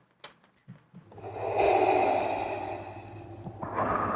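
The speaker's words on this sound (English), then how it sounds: "Darth Vader's breathing." Darth Vader's rhythmic mechanical breathing effect: one slow, hissing respirator inhale-exhale cycle, close and loud after a few short breathy sounds.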